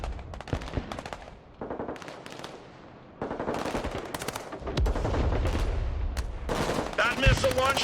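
Sustained gunfire in a combat battle from the military strategy game Broken Arrow, with rapid machine-gun bursts and scattered single shots, loud and continuous, rising toward the end with a heavier blast and a brief tonal sweep.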